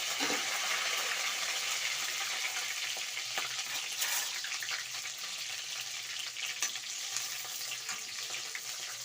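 Green chillies and curry leaves frying in hot oil after mustard seeds have popped for a tomato gojju, a bright continuous sizzle with scattered crackles and light stirring, close and fairly loud, no talking.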